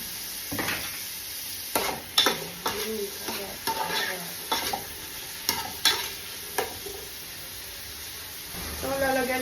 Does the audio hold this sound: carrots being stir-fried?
yes